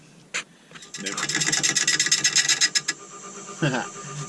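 A wood lathe turns away an MDF board on a platter blank, giving a rough, rapidly pulsing rasp of cutting for about two seconds, close and loud, followed by brief scraping touches.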